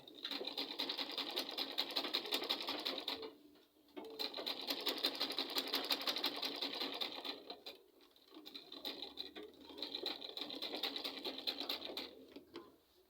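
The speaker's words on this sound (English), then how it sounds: "I'm going to sew it, little sewing." Sewing machine stitching an Ankara fabric belt, running in three long steady bursts of fast rhythmic needle patter with short pauses between them, close and clear.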